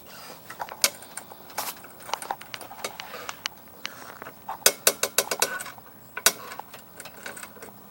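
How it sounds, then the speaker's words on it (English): Lug nuts being loosened on an Audi wheel during a front brake pad swap: scattered metallic clicks and clanks of a wrench, close by, in irregular bursts with sharper clusters toward the end. "Alright, now we get the lug nuts loose."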